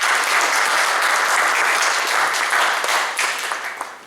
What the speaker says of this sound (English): let me just ask you for a round of applause to thank them for organizing this